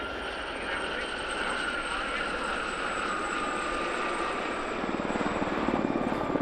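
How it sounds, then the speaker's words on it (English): Steady whirring drone of a helicopter overhead at an airshow, a constant rotor and engine hum that swells slightly louder toward the end. "We'll focus primarily on the classic helicopter action."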